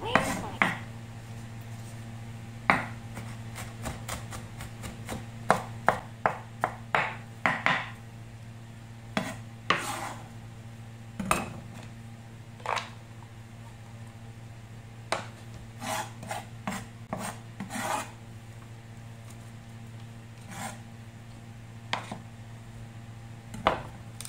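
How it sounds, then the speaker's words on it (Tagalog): Peeled garlic pounded finely in a mortar for a green salad with mango and red beans: irregular sharp knocks and scraping strikes, near and moderately loud, over a steady low hum, no talk. "Start na natin dikdikin ng pino."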